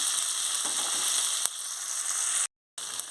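Tomato, potato and carrot pieces sizzle steadily in hot oil in a pan with onions for jowar upma. One soft knock lands midway, and the sound cuts out briefly near the end.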